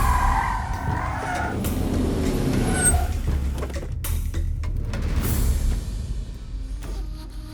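A car is driven into a village, its engine giving a steady low rumble with passing whooshes and brief hissing sweeps throughout.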